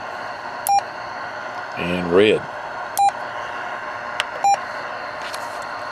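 Short electronic key beeps from a President Walker II CB radio sound several times at irregular intervals over a background hiss, with a brief spoken phrase in between.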